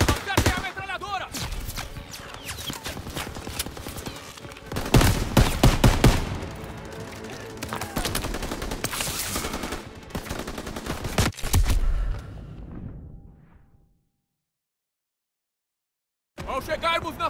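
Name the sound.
machine gun fire in video game Call of Duty WW2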